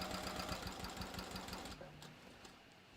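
A sewing machine hums along close by as it stitches a bathrobe, a fast even rattle that drops away partway through, leaving a quieter tail.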